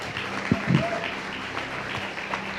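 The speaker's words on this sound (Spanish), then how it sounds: "así que le damos un aplauso especial también" Applause from a church congregation carries on at moderate volume, a soft even patter of many hands with a few voices and thumps mixed in.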